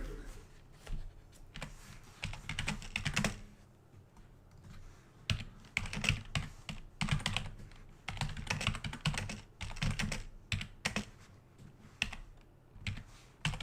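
Fast typing on a computer keyboard, a dense, uneven patter of key clicks with brief pauses, heard close and continuing throughout with no talk.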